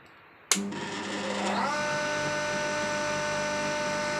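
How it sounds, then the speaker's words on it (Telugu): A wet flour grinding mill switches on with a sharp click, then spins up into a steady, loud electric motor hum and whine that stays even to the end and finishes with another click. "మిషన్ మెయిన్ ఆఫ్ బోర్డులో వేసుకొని ఆన్ చేసుకోవాలి"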